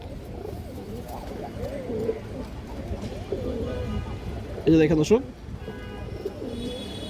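A red Muslodom boot-beak pigeon coos in repeated low rolling phrases close by, while someone speaks over it and a brief sharper clatter sounds near the middle.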